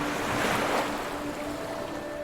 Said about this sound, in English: Hearing the waves gush and the breeze in the horizon has the power of finding yourself and losing everything else